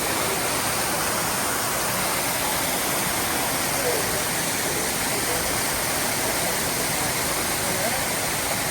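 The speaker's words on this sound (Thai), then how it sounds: "น้ำตกงามอีหลีนะ" A waterfall roars steadily at close range, a dense, unbroken wash of falling water that fills the whole clip without pause.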